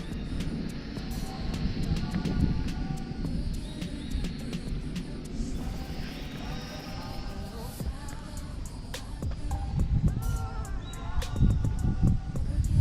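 A Volantex RC Sport Cub 500 remote-control airplane in flight, its small electric motor buzzing steadily at moderate distance against outdoor noise and faint talk.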